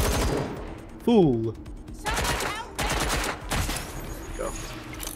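Bursts of gunfire from a London-set combat scene in the video game Watch Dogs Legion, with several loud volleys over a few seconds while someone talks and shouts over them.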